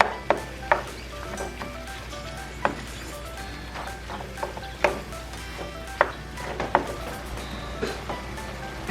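Vegetables for spaghetti sizzle steadily in a pan while a utensil stirs them, with scattered sharp clicks and scrapes against the pan over a constant frying hiss.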